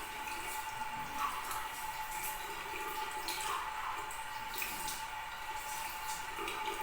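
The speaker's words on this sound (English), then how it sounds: "Rinse your hands thoroughly." Hands rinsed under a running tap during surgical-style handwashing: a steady, even hiss of flowing water with no pauses and no talking.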